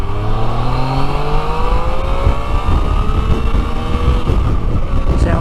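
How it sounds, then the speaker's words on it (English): A Yamaha Tracer 900 GT triple-engine motorcycle revs close and loud, its engine note climbing steadily in pitch through several rising sweeps over a constant rumble. "I just love this triple engine."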